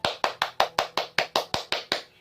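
Children clap together in a steady rhythm with their teacher at the end of a primary-school lesson, eleven sharp, evenly spaced claps close by, with no talking.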